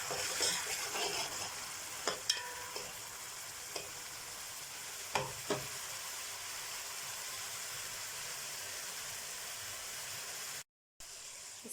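Onions frying gently in a pan, softening without browning, give off a steady close hiss with a few scattered clicks of a utensil against the pan, and no talking.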